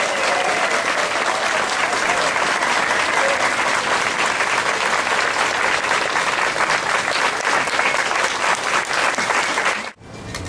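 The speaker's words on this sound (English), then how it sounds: "a round of applause for the unveiling of the Dr. James Naismith bronze statue" Outdoor crowd at a dedication ceremony for a bronze statue of Dr. James Naismith gives sustained, even applause for about ten seconds before it cuts off abruptly.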